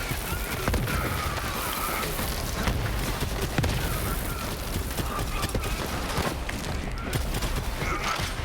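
A rocket launcher fires in the Borderlands 3 shooter, booming blasts and explosions over continuous dense battle noise, with some talk mixed in.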